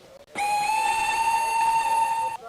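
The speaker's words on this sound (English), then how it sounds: "With one final goodbye whistle, Tracy vanished in front of Thomas" A steam locomotive whistle in an animated story sounds one sustained, clear, tonal blast, starting sharply and holding steady for about two seconds before cutting off, close and loud against a quiet background.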